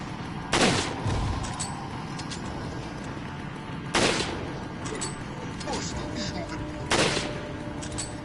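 Three loud, booming gunshots in Resident Evil 4 ring out about three seconds apart, each a sharp blast with a short decaying tail over a low game ambience.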